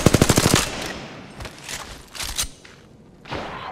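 Video game gunfire during a Domination match: a loud, rapid automatic burst opens, then scattered single shots and dull thuds pop at close to middle distance, with no talking.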